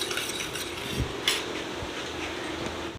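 Veg Manchurian ingredients being stirred and mixed in a bowl, with soft scraping and clinking of a utensil against the dish, quiet and close, with a few sharper knocks.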